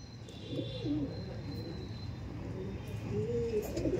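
Pigeons cooing softly, with two short rolling coos at the start and near the end over faint background noise.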